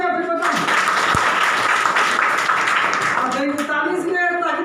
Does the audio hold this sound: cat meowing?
no